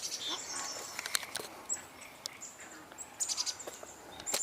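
Several thin, high bird calls from a nearby chickadee outdoors, scattered short chirps over a steady background hiss with other birds faintly around.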